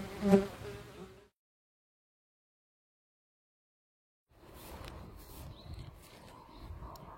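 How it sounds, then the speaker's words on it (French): A wild swarm of honeybees nesting in a tree trunk buzzes in a dense, droning hum that cuts off into a few seconds of silence, then returns at a steadier, slightly fainter level. "C'est un essaim d'abeilles qui était dans un tronc d'arbre."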